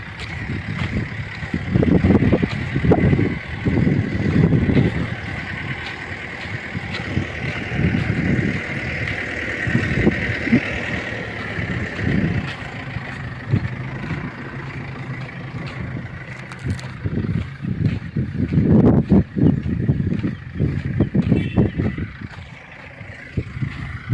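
A Lovol 1054 tractor engine runs steadily with a continuous mechanical drone and repeated low rumbling surges, loud and close, with no speech over it.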